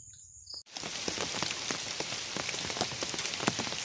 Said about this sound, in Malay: Hujan guys, hujan.